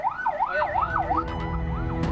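Wailing ambulance siren carrying a patient while stuck for hours in a traffic jam on Jalan Yos Sudarso toward Tanjung Priok port. It rises and falls steadily over a low rumble of traffic, with no talk.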